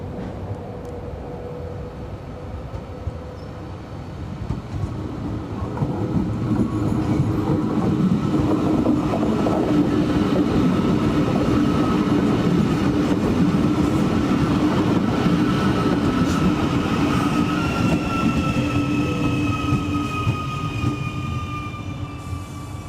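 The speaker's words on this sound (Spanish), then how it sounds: "la 954 entra en la estación" A Euskotren commuter train rumbles into a station on the Urdaibai line in the Basque Country, its loud heavy roll building and holding, with clanks, hisses and a faint rising squeal of brakes; no talking.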